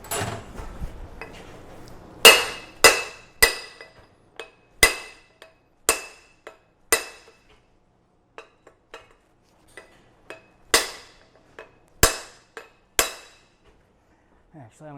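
A metal punch is hammered through a Land Cruiser differential part in a series of sharp, ringing strikes. Some come in quick pairs and some stand alone, spread over about twelve seconds with quiet pauses between them.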